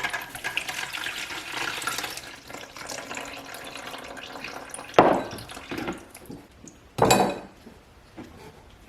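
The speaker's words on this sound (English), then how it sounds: "I am going to strain my lemon juice." Freshly squeezed lemon juice strained into a pitcher, a soft continuous liquid trickle with light clinks of a strainer or utensil and two sharper knocks near the end.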